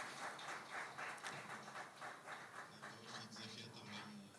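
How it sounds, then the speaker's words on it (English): Audience applause for the panelists of a conference session, a quiet, continuous patter of many hands clapping in a rippling rhythm, with a voice speaking faintly underneath. "I'd like to ask for a round of applause to all the panelists"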